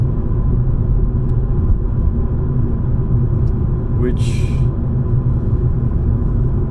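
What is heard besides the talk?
Volkswagen diesel Golf driving, interior road rumble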